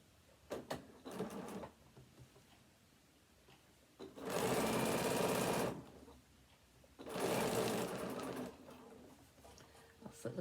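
Sewing machine stitching a leather card wallet, two sustained runs of steady mechanical whirring around the corners, separated by quieter pauses with small handling clicks.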